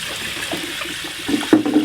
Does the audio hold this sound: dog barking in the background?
no